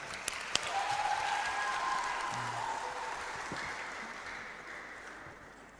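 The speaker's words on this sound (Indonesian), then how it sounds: "Tepuk tangan." Applause from the audience at a youth church debate on the doctrine of salvation, a steady wash of clapping that holds for several seconds and slowly fades, with no speech over it.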